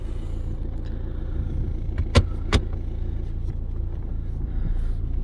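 A BMW F10/F11 engine runs at idle with a steady, low, even rumble throughout, broken by a couple of brief sharp clicks near the middle; no speech.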